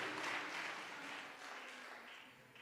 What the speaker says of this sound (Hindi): ज़ोरदार ताली बजा देंगे प्रभु की महिमा के लिए